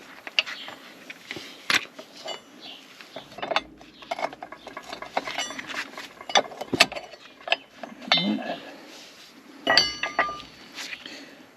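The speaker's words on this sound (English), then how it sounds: "So let's put a pry bar under these bolts." Pry bar working at the bolts on a New Holland disc mower knife, giving scattered metallic clinks, scrapes and ratchety knocks in irregular bursts, close by, with quiet pauses in between and no talking.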